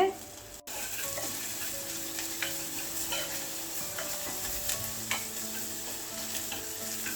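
Sliced pink cabbage with salt and spices is sautéed and stirred in a pan, a continuous sizzle with faint scraping and small clicks throughout, one brief dropout near the start.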